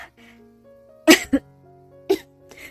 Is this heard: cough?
yes